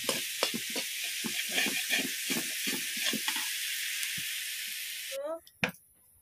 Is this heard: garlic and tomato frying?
yes